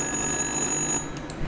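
Telephone ringing in the video game Little Hope, a thin high-pitched electronic trill heard at moderate level over a faint background hum, brief and without speech.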